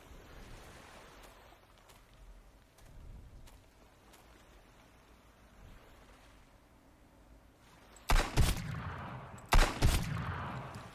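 Two loud gunshot bursts from the survival video game Sunkenland, close and sharp, come near the end of a long stretch of soft, surf-like ambient noise.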